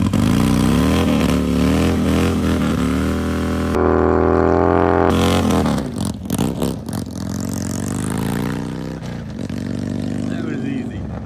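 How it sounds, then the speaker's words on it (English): A 2007 Harley-Davidson Nightster XL1200N does a burnout on an old, worn rear tire on a private street. The engine roars loud and close with rising and falling revs, and tire noise grows rough and scrubbing toward the end. "maybe I'll throw in a little clip of me doing a burnout"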